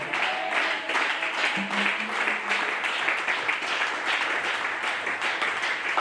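A church congregation claps steadily and loudly, applauding and acclaiming the Lord, in a dense sustained wash of applause lasting several seconds with faint voices beneath.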